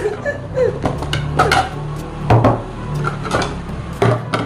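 Plates are handled while getting ready for a homemade birthday cake, making light clinks and knocks as they are set down and shifted, close by and irregular.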